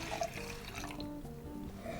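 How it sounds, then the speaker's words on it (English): A 2017 Vouvray Chenin Blanc wine is poured into a glass, a soft, close trickle and gurgle of liquid with faint clinks, quiet and alone. "Maybe I'll pour myself some more."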